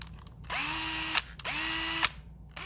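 A cordless Milwaukee 90-degree right-angle drill whirs up twice in short bursts, each spin lasting under a second with a rising whine, with quiet pauses between.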